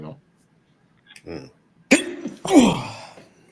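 A single sharp sneeze bursts out after a few faint breaths, followed by a short vocal trailing sound close to the microphone.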